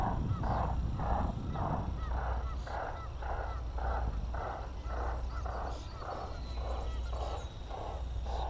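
A steady series of about a dozen evenly spaced goose honks, repeating roughly every third of a second over a constant low drone from a model B-25 airplane.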